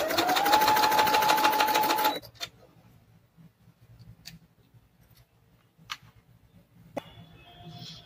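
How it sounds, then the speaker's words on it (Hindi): Sewing machine stitching the corner of a frock dress bodice, a steady close run of about two seconds that stops abruptly, followed by a few faint clicks and handling noises. "कॉर्नर सिल लेते हैं, हम कॉर्नर सिल लें"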